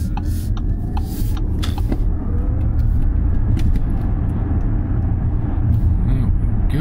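An Audi e-tron electric car being driven, heard from inside as a steady low road rumble and hum with faint tire and cabin noise, continuous and fairly loud throughout.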